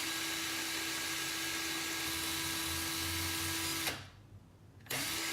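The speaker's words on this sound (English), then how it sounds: "I'm just gonna reverse the drill a little bit to loosen up just a tad" A power drill whines steadily at close range for about four seconds while backing out of wire coils after force-fusing, then cuts off abruptly, leaving a short quiet gap before the motor starts again.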